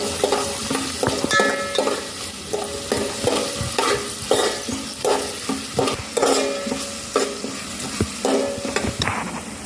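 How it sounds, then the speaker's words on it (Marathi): Chopped onion is sautéed with spices such as black pepper in a pan, with a steady sizzle under repeated, rhythmic scraping strokes of a spoon stirring close up, and no talk. "1-2 मिनिटं कांदाही परतून घ्यायचा।"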